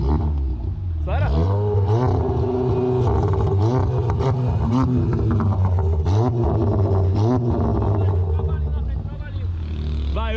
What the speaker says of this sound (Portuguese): Deixa eu acelerar um pouquinho.